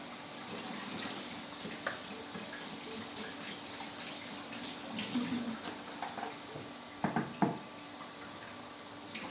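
Washed rice is strained under running water in a kitchen sink, a steady moderate rush of water with some light clatter and splashes toward the end.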